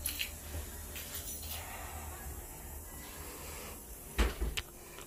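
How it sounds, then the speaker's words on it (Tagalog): A door is pushed shut indoors with a sharp double thud near the end, after quiet room noise and faint rustling. "Sarado natin yung pinto."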